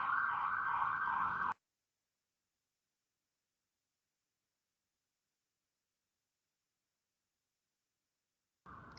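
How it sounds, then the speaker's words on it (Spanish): Ambulance sirens passing outside wail loudly for about a second and a half, then cut to silence before returning faintly near the end, heard alone without talk. "que hoy hay más ambulancias de lo normal"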